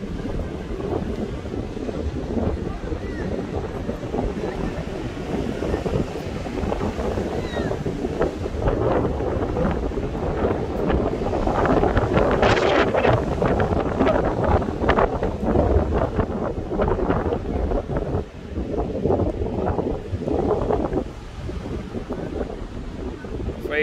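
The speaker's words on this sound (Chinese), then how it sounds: "这边的风很大" Strong wind blows across the Pacific shore at Qixingtan crescent bay in Hualien, a continuous roaring rush buffeting the microphone, gusting louder midway, with surf noise blended underneath and no clear talk.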